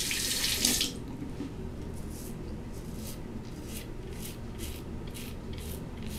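Water from a bathroom tap gushes loudly as a shaving razor is rinsed for about a second, then a faint, rhythmic scraping of the razor on skin repeats several times over a quiet background.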